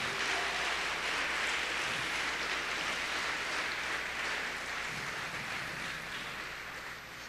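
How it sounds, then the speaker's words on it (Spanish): Church congregation applauding during a Spanish-language service, a broad, continuous hiss of clapping that sounds somewhat distant and washed out, holding steady before easing slightly at the end, with no voices. "Denle un fuerte aplauso a ese Señor."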